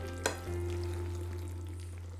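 Chicken masala simmers gently in a pan for a hot and spicy chicken dry roast, a soft, even sizzle following a brief clack, quiet and steady with no talk.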